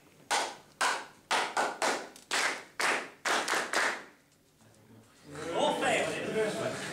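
Hands clap out a syncopated rhythm at a singing workshop, several sharp close claps in short groups, some in quick pairs, followed by a brief pause and then voices talking.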